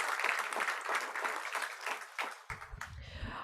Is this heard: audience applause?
yes